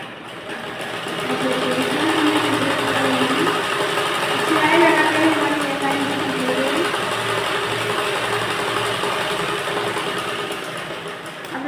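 A sewing machine stitching a blouse runs continuously at a steady, moderately loud whir with slight shifts in pitch and no talking.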